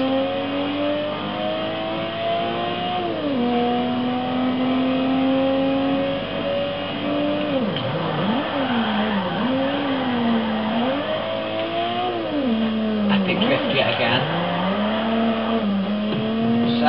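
A Nissan Skyline R32 GTR V-Spec engine revs hard through rising and falling pitch sweeps, with wheel spin and tire noise woven in, loud and close for the whole stretch with no talking.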